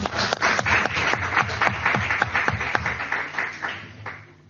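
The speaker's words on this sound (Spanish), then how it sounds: "O sea que un aplauso para ella" Audience at a commemorative talk about a woman painter giving a round of applause, a moderate group of clear, closely spaced claps with some shuffling that gradually thins and fades out.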